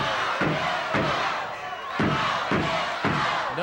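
Wrestling arena crowd at a USWA bout roaring and cheering steadily throughout, a loud sustained wall of voices with rhythmic swells as fans rally behind a wrestler caught in a bear hug.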